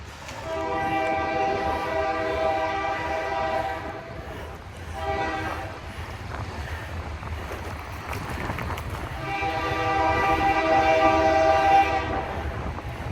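A passing train sounds its loud horn in two long blasts separated by a short gap, with rolling rail rumble underneath throughout.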